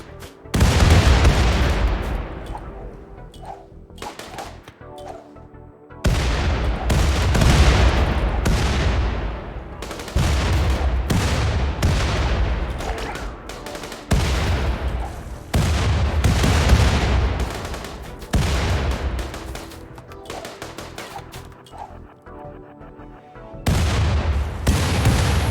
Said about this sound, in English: That's so many grenades.